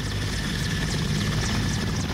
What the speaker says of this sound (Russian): вертолет напрягает этот, летает